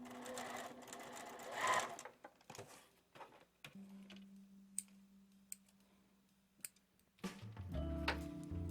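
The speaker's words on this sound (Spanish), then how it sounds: "levantan la patilla, corren el zipper hacia atrás y continúan cosiendo" A sewing machine stitches a zipper onto a vinyl pouch, with a steady mechanical hum over several seconds between quiet clicks and handling noises, ending in a louder run of stitching.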